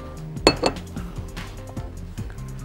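A bowl set down on a kitchen surface while cooking herb shrimp: two sharp, close ceramic clinks in quick succession, followed by a few faint lighter taps and clatter.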